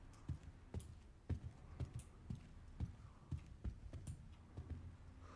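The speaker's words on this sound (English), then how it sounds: "Oh, that's a horse." Horse hooves clip-clop in an irregular series of soft thuds, fairly quiet and steady, with no voices over them.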